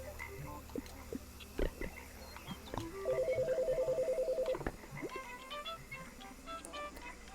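Telephone call in the video game Chicory: A Colorful Tale, a steady rapid electronic ringing trill lasting about a second and a half, preceded by soft clicks and followed by quieter game chimes.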